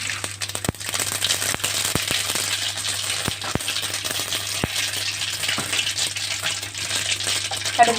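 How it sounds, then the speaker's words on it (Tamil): Mustard seeds and urad dal pop and splutter in hot oil, previously used for frying vadai, in a kadai, giving scattered sharp crackles over a steady sizzle with no talk. "கடுகு பொரியட்டும்."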